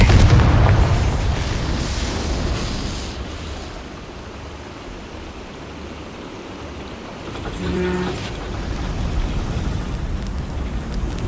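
A Confringo fire spell goes off in Hogwarts Legacy, a loud booming burst at the very start with a rumbling tail, followed by quieter ambient noise and a second smaller burst about eight seconds in.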